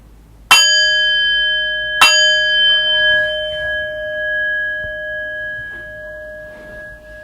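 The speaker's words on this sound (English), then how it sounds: "I'll ring the bell twice to begin." Meditation bell struck twice about a second and a half apart, each strike a bright clear ring leaving a long sustained hum that slowly fades in a quiet room.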